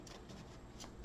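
Quiet riffling of tarot cards, a few soft rapid bursts of shuffling close by.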